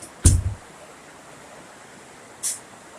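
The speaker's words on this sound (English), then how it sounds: "Can you hear the river?" A river flows outside a hotel balcony at the edge of Gatlinburg, a soft continuous rushing wash heard from a little distance, broken by two brief louder knocks or bumps nearby.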